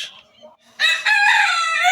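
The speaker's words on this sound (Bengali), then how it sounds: "এখানে আমার দেশি মুরগিগুলা" A native rooster crows loudly and close by on a farm, one long drawn-out call rising after a moment of soft, quieter sounds.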